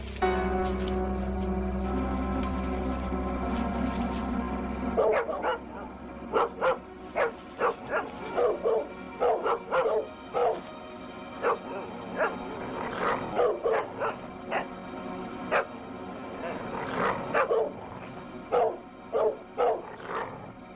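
Several dogs bark repeatedly in irregular bursts after a low rumbling start, some yips mixed in, fairly close and loud, in Australia.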